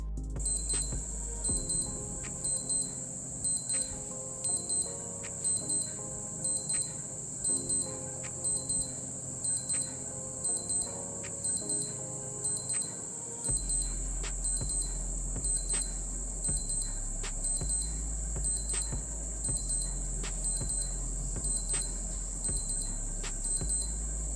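A thin, high electronic beep from a Q&Q M124J digital watch alarm repeats in quick double pulses at a steady rhythm, continuing throughout over a low background hum.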